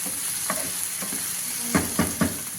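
Onion and ginger fry in a pan with a soft steady sizzle, while a spoon stirs and scrapes a few times in quick, close strokes.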